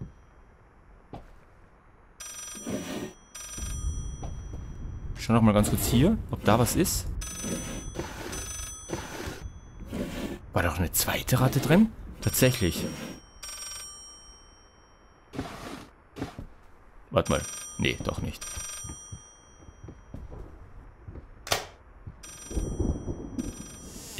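Telephone ringing in the horror video game Layers of Fear, repeated bright ringing bursts spaced irregularly through the stretch, with someone talking intermittently in German over and between the rings.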